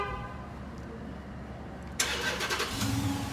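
A car with a push-button start turns over and its engine catches, a loud onset that rises over the steady idle and hum already present, heard alone without talk.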